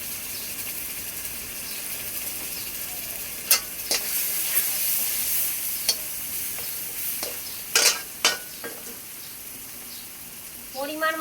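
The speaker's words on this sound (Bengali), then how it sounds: "ভালোভাবে নেড়ে নেব। মশলাটা ভালোভাবে কষাতে দেব।" Spices and paste with Kashmiri chili powder and coriander powder frying in a pan, a constant bright hiss of sizzling oil broken by occasional scrapes and clinks of stirring.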